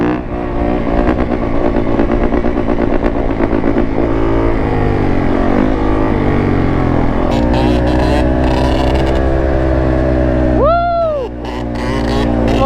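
A two-stroke quad bike engine revs hard while being ridden, a loud buzzing drone rising and falling through repeated throttle blips, with a brief lull near the end.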